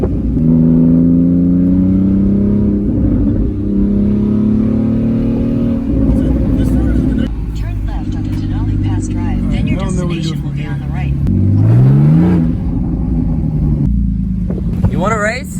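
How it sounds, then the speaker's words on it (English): A Porsche Cayman engine revs inside an overpass between concrete walls, a loud droning exhaust rising and falling in pitch with echoing reverberation, while people talk over it. "even in a car that's not like crazy loud like this, it sounds insane"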